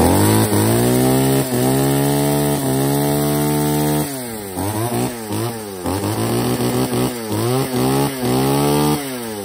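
A chainsaw engine runs loud and close, revving up and down in repeated surges, its pitch rising and falling through the whole stretch.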